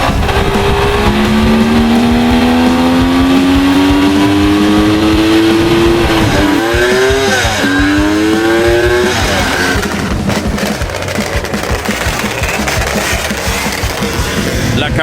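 A Kawasaki H2 750 two-stroke motorcycle engine revs hard, its rising, buzzing whine climbing in several loud pulls, then dropping back and surging again before settling into rough, noisy running.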